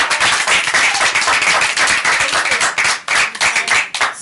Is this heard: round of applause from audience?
yes